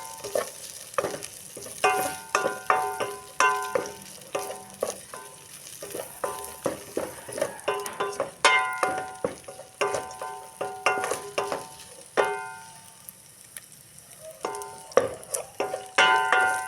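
Already-cooked ground meat is toasted in a pan, crackling and sizzling steadily up close while repeated stirring scrapes and spatula clacks break through in irregular bursts, with no voices.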